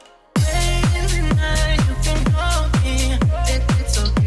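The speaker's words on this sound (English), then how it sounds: "Next up we do have some toms, but they only play in the verse," Deep tom drums in the verse of a house music track, booming in a steady run of about eight evenly spaced hits, each with a low decaying body, loud and alone after a brief silent start.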